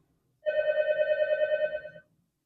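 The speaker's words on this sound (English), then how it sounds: "a phone call came in" A telephone rings at 1 a.m. during a night shift at work: one sustained electronic ring tone lasting about a second and a half, clear and close, with no other sound around it.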